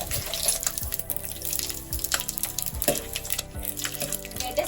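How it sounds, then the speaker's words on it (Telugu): Spices frying in hot oil and ghee for Telangana bagara rice: a steady crackling, watery sizzle with occasional sharp pops, fairly close and continuous throughout, with no talking. "ఆయిల్ వేడైంది ఇప్పుడు వచ్చేసి నేను అన్ని స్పైసెస్ వేస్తున్నా ఒకేసారి కొద్దిగా ఫ్రై అవ్వాలన్నమాట"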